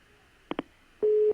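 A telephone line tone after a dropped call: two short clicks, then a steady electronic tone holding for about a third of a second.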